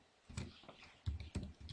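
A computer keyboard being typed on while a CAD drawing is made, a few soft, close keystrokes in short irregular taps at low volume.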